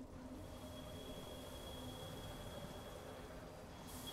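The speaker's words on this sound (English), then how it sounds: "Oh, wait, there's a train." A train passing in the video game Stay Close, a steady low rumble of wheels and rail noise holding evenly throughout at moderate distance, faint and without speech.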